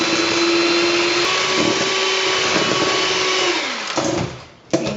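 Electric mixer whirring steadily as oil is streamed into carrot cake batter, a loud continuous motor drone that holds for about four seconds, then slows and stops before a brief final burst.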